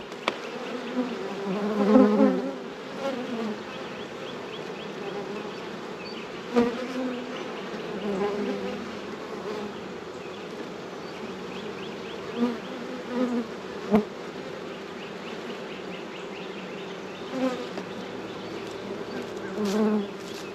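Honey bees buzz in a dense, close drone while a deep hive is opened and inspected after winter, with occasional knocks and scrapes of hive parts cutting through the constant hum.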